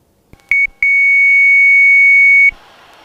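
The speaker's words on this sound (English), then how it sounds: "That loud beep is my autopilot disconnecting." An aircraft autopilot disconnect warning sounds in the cockpit during an IFR flight: a few short sharp beeps, then one loud, steady, piercing tone held for about two seconds before it cuts off.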